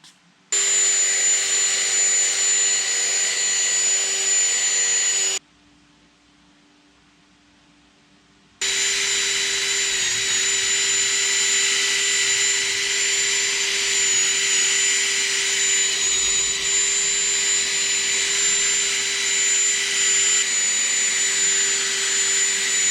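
Power polisher fitted with an orange abrasive pad working on glass during scratch removal, a loud steady high-pitched whine with a brief pause where the motor cuts out before running again.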